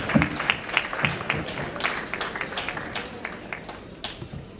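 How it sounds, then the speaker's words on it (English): Guests at an independence anniversary dinner dance applaud the chair, scattered clapping from a room full of people that is strongest at the start and thins out over a few seconds, with a faint murmur underneath. "let's give our chair another applause for that short and beautiful remark."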